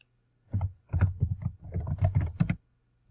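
Typing on a computer keyboard, with quick close bursts of key clicks in irregular clusters, surrounded by near silence.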